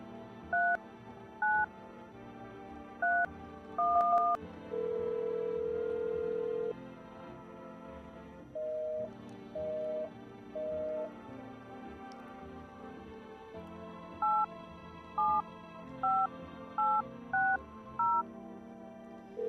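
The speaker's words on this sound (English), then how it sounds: "I'm gonna call the psychic lady again." Telephone keypad dialing in a video game, a series of short beeping tones in irregular bursts with a longer held tone, quiet and alone without talk.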